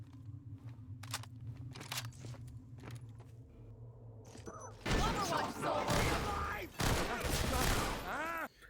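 Bursts of rapid automatic MP5 gunfire in the video game Entropy: Zero 2, first sparse and quieter, then louder sustained volleys with ringing metallic tails, interspersed with brief pauses.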